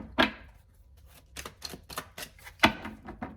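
Tarot cards are drawn and handled at close range, with a series of sharp flicks and soft slaps as cards are shuffled and laid down, irregular and quiet, with no talking.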